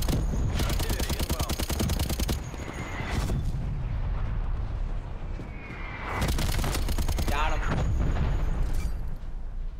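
Artillery fire and heavy shooting on a Call of Duty: Cold War battlefield, with a dense, continuous barrage of booms and gunfire that eases briefly in the middle and then swells back up.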